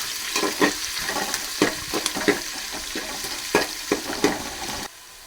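Fish curry ingredients, sliced long pieces, frying in hot oil until golden, with a steady sizzle broken by repeated stirring scrapes and clinks; close and moderately loud, stopping abruptly near the end.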